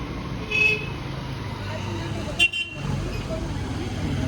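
A car on a mountain road with its engine rumbling close by, a short horn toot partway through, and someone talking over it.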